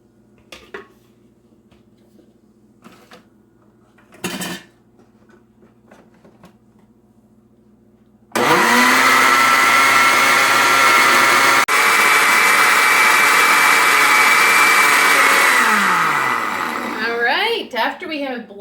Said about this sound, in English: we're going to blend this up for about 2 minutes to get it so that it's really nicely blended